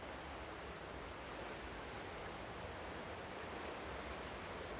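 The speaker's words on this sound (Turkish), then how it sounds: "Bakın su sesi gelmeye başladı." Steady broadband rush of water flowing in a thermal jacuzzi pool at a spa resort in Afyon, a continuous even hiss at low level with no change or talking throughout.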